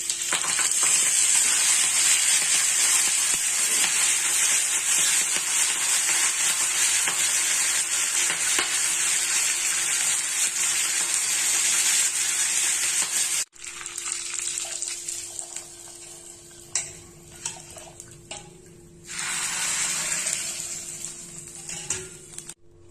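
Mustard seeds, curry leaves, cumin, asafoetida and dried red chili crackle and sizzle in hot oil for a coconut rasam tempering, a dense continuous hiss that drops away midway, then returns softer with scattered pops and a final loud burst.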